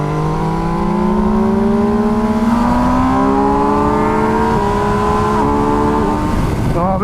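A car engine revs hard, climbing steeply through rising tones in long, loud sweeps, then drops back near the end.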